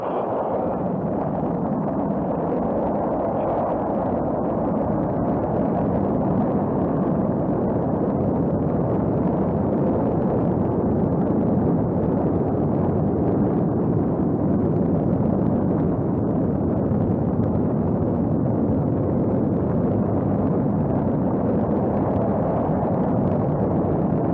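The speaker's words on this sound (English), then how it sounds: "Ignition sequence start." Rocket engine ignition and launch: a massive, unbroken roaring rumble that stays loud and dense for the whole stretch, distant but overwhelming, with no voices.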